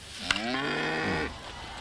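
A cow moos in an in-game insurance ad in the baseball game MLB The Show 25, one long, loud, drawn-out moo that falls in pitch and then stops.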